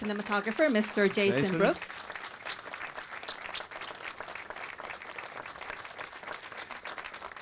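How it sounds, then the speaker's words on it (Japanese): At a film Q&A, a voice speaks briefly before an audience bursts into steady applause welcoming the guests, many hands clapping continuously at moderate volume. "一段と大きな拍手でお迎えください"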